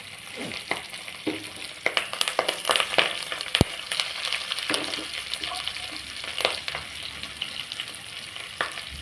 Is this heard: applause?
no